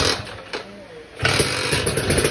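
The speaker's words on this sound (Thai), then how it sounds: "ถ้าสตาร์ทเครื่องยนต์ตอนนี้จะมีใครด่าไหมเนี่ยชาวบ้านแถวนี้" Lambretta drag racing scooter engine starting late at night, a loud broadband engine burst kicking in about halfway through after quieter rumbling, with voices present around it.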